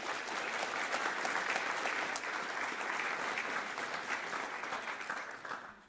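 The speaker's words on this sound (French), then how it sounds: "je veux bien que vous applaudissiez" An audience at a French youth careers plenary applauds the event's partners, a steady, fairly distant wash of many hands clapping that fades slightly near the end.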